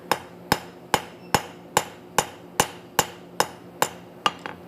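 Hot metal is drawn out with a cross peen hammer at the anvil, ten crisp ringing strikes in a steady rhythm about two per second, the last one lighter, heard up close without speech.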